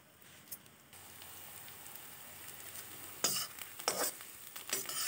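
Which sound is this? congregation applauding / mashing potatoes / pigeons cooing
mashing potatoes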